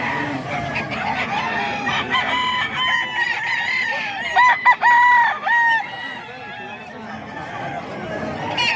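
Several eight-month-old stag roosters crow loudly nearby, overlapping cock-a-doodle-doo calls in the middle with clucking around them, while someone talks throughout.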